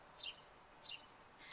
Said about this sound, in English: It's very ironic that there's a bird tweeting right now.